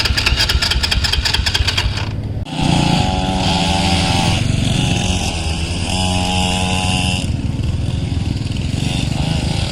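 A motorcycle with a fuel leak starts up and runs steadily at close range, with a sharp rattling start and then a loud, even engine drone that holds to the end.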